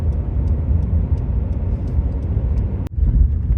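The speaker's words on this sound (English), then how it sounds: "The road does have a lot of washboard on it, so you can't really go as fast as you want comfortably in a passenger car" A passenger car rolls along a rocky, washboard dirt road, a dense steady rumble with rapid rattling texture throughout and a brief sharp knock near the end, close and loud with no talking.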